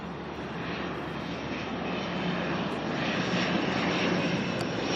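Passenger aircraft arriving at Auckland Airport, flight NZ5004 from Napier, a continuous steady engine roar that swells slightly as it nears, fairly loud against open outdoor air with no voices.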